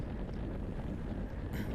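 Steady, loud wind buffeting a microphone while cycling in a Cat 3/4 bike race at Floyd Bennett Field, a constant roaring rush with no pauses.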